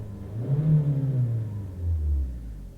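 A high-mileage Hyundai 1.8 liter four-cylinder engine revs up near the microphone, climbing in pitch then dropping back and rising again in a deep, smooth rumble with no talking.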